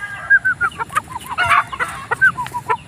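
A Nelson's Black Straight Comb gamefowl stag clucks close by in a quick run of short, throaty notes, with a few sharper calls mixed in against a quiet farmyard background.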